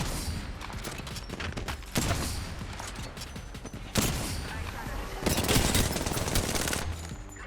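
Gunfire in Apex Legends, with loud bursts of automatic fire and scattered single shots in a busy firefight, surging at intervals with crackling impacts and mechanical clatter between volleys.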